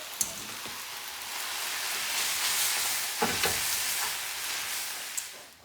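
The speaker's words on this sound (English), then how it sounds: "After you've stirred the vegetables and the pasta together" Spaghetti and vegetables stirred together in a hot pan, making a continuous hissing sizzle punctuated by a few sharp utensil clacks and scrapes, close by, with no speech.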